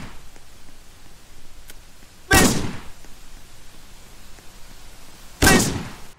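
Two sharp gunshots in the Island Predator video game, each a loud, abrupt burst about three seconds apart over a quiet, steady background, with no talking.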